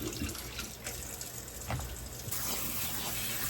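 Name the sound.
running cold tap water over potatoes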